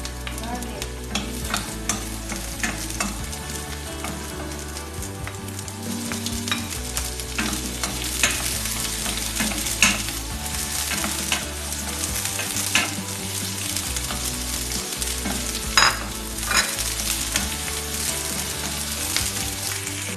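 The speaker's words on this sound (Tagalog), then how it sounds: "gisa na natin ang ating garlic." Garlic sautéing in a pan for humba, a steady close sizzle and fry with frequent scraping and stirring clatter from a utensil throughout, no talking.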